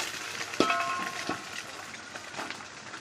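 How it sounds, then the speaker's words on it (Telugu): Rice tossed into a pan with scrambled eggs for egg fried rice, with a sharp clank near the start, then soft sizzling and occasional stirring scrapes, fairly quiet. "ఎగ్స్ వేసాక మనం రైస్ వేస్తున్నాం"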